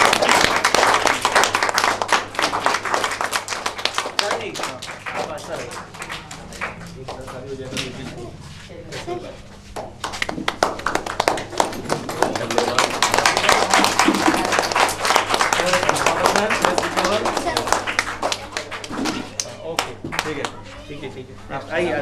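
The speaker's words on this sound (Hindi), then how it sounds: "कृपया ताली बजा के।" A group claps their hands at a gathering, loud and sustained for most of the stretch, with a dip in the middle and voices mixed in.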